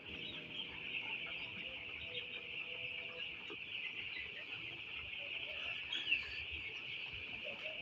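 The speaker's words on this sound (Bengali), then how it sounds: "আমাদের এই মুরগির বাচ্চাগুলোর বয়স হচ্ছে আজকে আট দিন" Eight-day-old broiler chicks in a poultry shed give a continuous high-pitched chorus of peeping and cheeping, steady and fairly close, with no talk over it.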